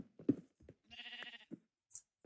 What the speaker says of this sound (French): Oh, il y a des moutons, j'ai entendu.